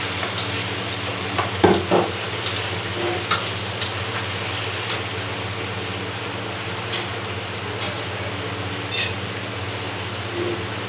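Onions fry in a pan with a steady, soft sizzle, a low hum underneath, and a few brief stirring clatters near the start.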